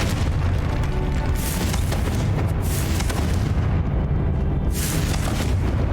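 Confringo fire spell explosions in the Hogwarts Legacy video game, a dense run of loud booming blasts and rumbling bursts that fill the whole stretch without a pause, with no talking.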